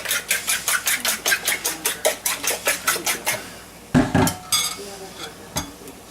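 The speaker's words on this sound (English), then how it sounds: "it's about time to stir the potatoes again" A utensil scrapes and clinks rhythmically against a pan while potatoes are stirred, about fifteen quick strokes in a row, then a pause, a louder clatter and a few scattered scrapes, all close up.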